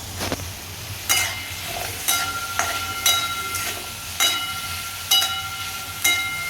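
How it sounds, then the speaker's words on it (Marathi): Green tomatoes and green chillies sautéing in hot oil for a green tomato chutney, a steady sizzle broken by sharp stirring scrapes about once a second, close and moderately loud. "ह्याला परतून घ्यायचे"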